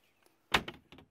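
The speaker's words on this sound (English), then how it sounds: "access door to the center console" Access door on the center console of a 2000 Boston Whaler 23 Outrage boat opening: a single sharp clack of the latch and hinge, followed by a softer second knock, close by and otherwise quiet.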